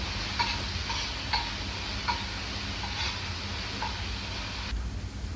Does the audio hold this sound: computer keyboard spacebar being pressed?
no